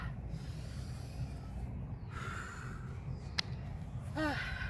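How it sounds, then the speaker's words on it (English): Heavy breathing right after a HIIT interval: deep, audible breaths and a snort-like exhale, steady and close, over a low background hum with a brief sharp click near the end. "Breathe with me."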